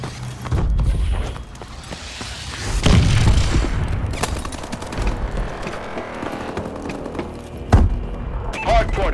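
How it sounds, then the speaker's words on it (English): Missile strike explosions in the video game Call of Duty: Advanced Warfare, heavy booms landing amid steady battlefield gunfire, with one big blast early and another sharp one near the end, voices faintly in the mix. "Friendly missile strikes inbound"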